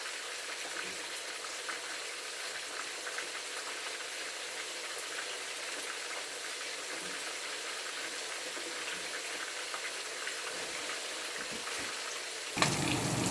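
Bean fritters sizzle in hot oil in a pan, a steady bright crackling hiss held at close range for the whole stretch, with a sharp louder burst near the end.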